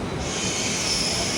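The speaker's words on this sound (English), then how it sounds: "This is the Mumbai CSMT station, the famous local train." A Mumbai local train at CSMT station gives off a steady loud hiss and rumble with a high metallic wheel squeal, continuous and close, with no voices.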